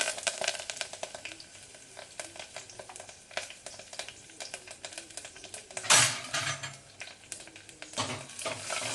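Mustard seeds, a little asafoetida, and dried and green chillies sputter and crackle loudly in hot oil, with dense popping throughout and a sharper burst partway, for a North Kannada raw-mango appehuli tempering.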